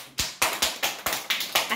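Schoolchildren clap in a classroom during an Arabic letter lesson, about seven sharp, evenly spaced clap bursts ringing close and clear with no talk over them.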